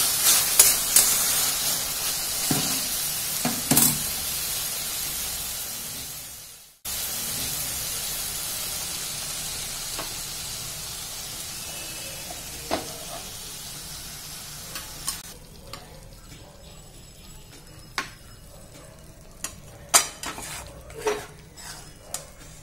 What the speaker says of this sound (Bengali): এবার আমি নাড়াচাড়া করে নাবিয়ে দিচ্ছি।